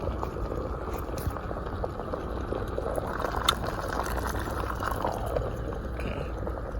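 Water boils in a pot on a small stove inside a car, making a steady, fairly soft bubbling rumble that holds evenly throughout, near and alone.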